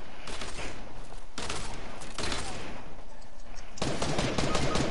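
SMG fire in a video game, with several loud, rapid automatic bursts separated by short pauses, close and harsh.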